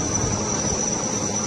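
Fighter jets flying low over a Vijay Diwas celebration, trailing the tricolour, make a steady, loud roaring rumble of jet engines that holds constant with no voices.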